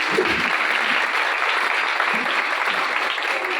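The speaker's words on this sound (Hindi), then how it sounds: "हालेलुया, जोरदार तालियों से यीशु को।" A Palm Sunday church congregation claps loudly and continuously, a dense, even wash of applause filling the room for a few seconds with a few stray low thumps underneath.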